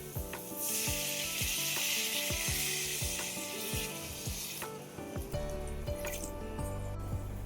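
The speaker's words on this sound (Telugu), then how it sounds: "ఒక గ్లాసు వాటర్ పోసుకోండి" Water is poured into a sizzling tamarind-leaf and dried-fish curry, a loud hiss of frying and boiling lasting several seconds with repeated clanks of a stirring spoon against the pan.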